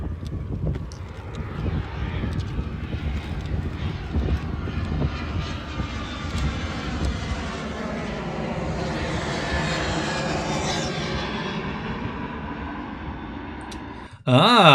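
An airplane passes overhead near an airport, either Gatwick or Heathrow; its engine roar holds steady and loud for most of the span, with a rising, shifting whine as it flies over, and no talk over it.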